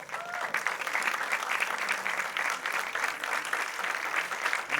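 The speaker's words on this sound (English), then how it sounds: "give them all a big round of applause, ladies and gentlemen." A large audience at a film trailer launch event gives strong, sustained applause, a steady dense roar of clapping with a brief bit of voice near the start.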